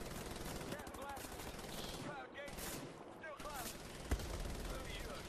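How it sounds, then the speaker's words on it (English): Gunfire in the shooter game Wolfenstein: The New Order, dense rapid bursts of automatic fire mixed with game noise and a sharp louder shot near the end, fairly faint overall. "Who's shooting at me?"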